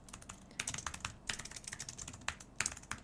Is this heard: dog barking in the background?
no